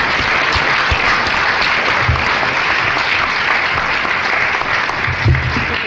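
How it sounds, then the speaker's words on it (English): A room full of people at a city council meeting applauds a group of champions, loud sustained clapping with a slightly muffled, boomy quality and faint low thumps underneath. "let's give them another round of applause"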